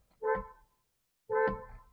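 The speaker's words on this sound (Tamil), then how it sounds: "ஹாரன் சவுண்ட் நீட்டாகவே இருக்குது." Two short car horn honks from a 2024 Kia Sonnet, close and clear, separated by about a second of silence.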